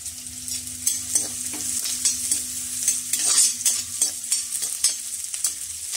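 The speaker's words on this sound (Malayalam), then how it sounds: "അപ്പം ജസ്റ്റ് നമുക്ക് അതിനകത്തേക്ക് ഇത്തിരി ഇട്ടൊന്ന് നമ്മൾ ആ ഉള്ളി ഒന്ന് മൂപ്പിക്കണം" Sliced shallots and curry leaves fry in hot oil for a kovakka mezhukkupuratti, a continuous close crackling sizzle with rhythmic spoon strokes scraping the pan, no one speaking.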